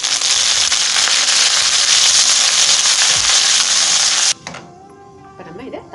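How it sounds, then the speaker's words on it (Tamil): Mustard seeds and urad dal crackle and sizzle in hot oil while tempering onion chutney, a loud dense frying hiss that cuts off abruptly, leaving faint clinks and quieter sputter. "இப்போ நம்ம இதை தாளிச்சுக்கலாம்."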